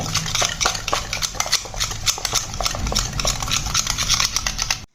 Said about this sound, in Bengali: এবার এই সমস্ত কিছুকে একবার ভালো করে মিশিয়ে নেব